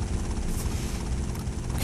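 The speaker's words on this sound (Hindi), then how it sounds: "और हेलीकॉप्टर आ चुका है ऊपर।" A helicopter hovers overhead in the video game GTA Vice City, a loud, steady rotor drone with dense low-end thumping that fills the whole moment without pause.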